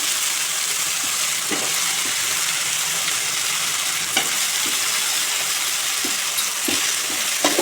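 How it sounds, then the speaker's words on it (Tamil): Chopped vegetables, drumstick among them, sauté in a pan with a steady close sizzle, punctuated by scattered scraping clicks of a spoon stirring them through. "காயை போட்டு நல்லா சுருளில் வதக்கணும் நல்லா கிண்டி விட்டு"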